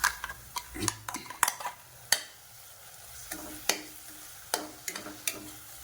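Ground onion and tomato paste sautéed in a pan for a Sesbania leaf and vegetable pulao, with a spatula scraping and clicking repeatedly and irregularly over a low, continuous sizzle.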